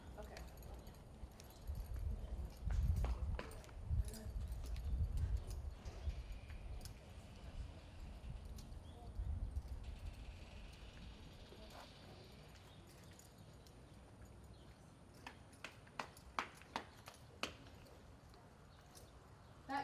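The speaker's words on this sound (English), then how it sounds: "That canter was better though" A horse cantering in a riding arena, soft rhythmic hoofbeats thudding nearby at first, then fading into scattered sharp clicks and ticks, with quiet talk heard at times.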